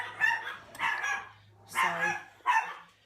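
Two chihuahuas bark indoors in four sharp, close yapping bursts, with short pauses between them and a low steady hum underneath.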